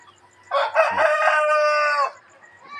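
At chicken feeding time, one rooster gives a single close, loud crow lasting about a second and a half, with quiet background before and after.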